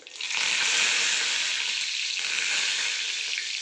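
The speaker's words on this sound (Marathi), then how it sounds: "आता कांदा कांदा आपल्याला लालसर होईपर्यंत परतून घ्यायचा आहे" Onions frying in a pan that already holds cumin, asafoetida and curry leaves for misal, giving a loud, dense, continuous sizzle heard close up with no voices.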